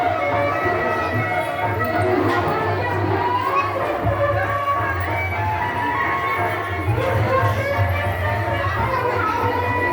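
A crowd of devotees at Baba's samadhi shrine in Bakhari, Siwan, Bihar, a continuous murmur of voices with children and a low hum beneath, steady and fairly loud throughout.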